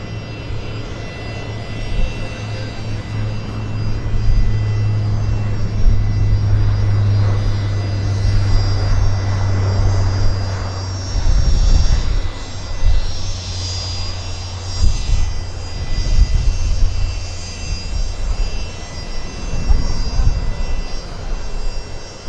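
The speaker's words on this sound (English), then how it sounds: "we got a Q400 on the roll here" A De Havilland Q400 turboprop airliner takes off at Vancouver Airport in strong winds, its engine drone rising and swelling in loud surges over gusty background noise, heard from a distance without speech.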